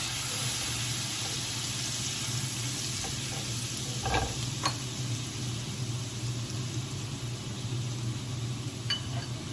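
About a tablespoon of chopped garlic fries in a pan for a spicy chili shrimp noodle bowl, giving a steady, even sizzle throughout, broken by a few light stirring clicks near the middle.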